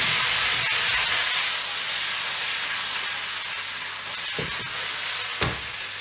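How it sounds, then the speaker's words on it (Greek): Potatoes sauté in a hot pan for lemon chicken with potatoes, giving a loud, steady sizzling hiss. A couple of soft stirring knocks sound near the end. "Σοτάρω τις πατάτες."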